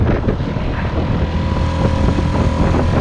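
A 2.5 horsepower outboard motor on a sailboat's tender runs wide open up close, a loud, steady buzzing drone with no break.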